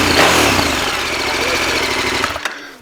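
A KTM 1390 Super Adventure S Evo motorcycle with its stock exhaust idles steadily and fairly loudly close by, then cuts out sharply near the end.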